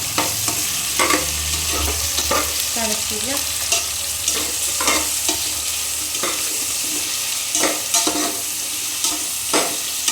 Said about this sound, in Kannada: ಹಾಕ್ಕೊಂಡು ಅದನ್ನು ಕೂಡ ನೀಟಾಗಿ ಫ್ರೈ ಮಾಡ್ಕೊಳ್ಳಿ ನೋಡಿ